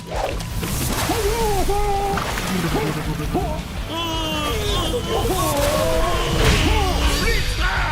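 Cartoon water sounds of splashing and sloshing as a reluctant creature is sprayed during a bath, mixed with frequent animated character voices and squeaky vocal sounds throughout.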